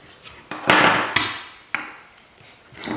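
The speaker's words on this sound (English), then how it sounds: "Just be rough, you can't hurt silicone. Okay, so what I'll do is just pull this one off." A silicone cake-decorating mould is pulled off a piece with a few close, sharp taps and knocks, followed by short scraping and peeling rustles in between.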